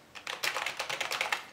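Rapid, fairly loud keystrokes on a Genius Scorpion K20 gaming keyboard, a run of crisp clicks coming in an uneven typing rhythm, with no voices over them.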